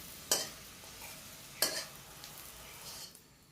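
A prawn paratha fries in oil in a village kitchen, with two sharp metal spatula scrapes as it is turned and a steady low sizzle in between, close and moderately loud.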